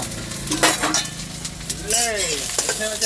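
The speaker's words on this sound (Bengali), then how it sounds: "এই যে শুকনো লঙ্কা দিয়ে দিলাম" Dried red chillies added to hot oil after frying onions, cooked in a vehicle. The close, continuous sizzle carries stirring clinks and a voice talking over it.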